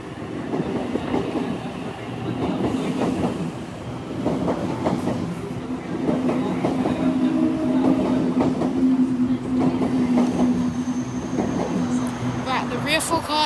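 A train rumbles steadily through Milsons Point station without stopping, with rhythmic clacking wheels and a rising metallic whine, loud and close, while a person talks over it.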